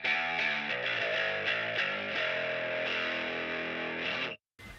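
Bass guitar played through channel B of an EBS Stanley Clarke signature preamp, with lows filtered out below about 450 Hz and a heavy 2.5k mid boost, giving a thin, nasal, distorted sustained tone that stops abruptly at the end.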